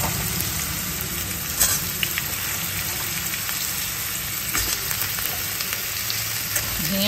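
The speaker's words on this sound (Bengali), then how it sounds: "আলুটা ভাজতে ভাজতে একটু লাল করে আলুটা ভাজবো" Potatoes fry in a pan with a steady, close sizzle and crackle, with occasional light clinks and no talk.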